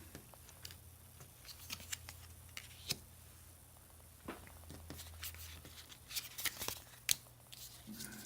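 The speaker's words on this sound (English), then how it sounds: "I'm going to discard Haka of Shielding and draw 2 cards" Playing cards are discarded and drawn in the cooperative card game Oblivaeon, heard as soft, close paper slides, flicks and light taps scattered through an otherwise quiet room.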